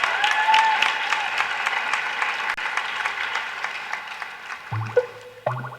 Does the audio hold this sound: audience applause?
yes